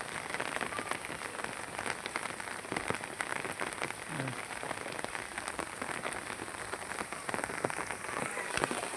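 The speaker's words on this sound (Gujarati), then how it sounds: "વરસાદ ભાઈ અત્યારે જો શરૂ જ છે" Steady rain pours down outdoors during an unseasonal downpour beside a river running bank to bank, a dense continuous hiss of drops on surfaces with no voices.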